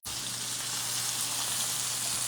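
Pearl onions caramelizing in a pan with tomatoes, giving a steady close-up sizzle and crackle of frying that runs alone without pause.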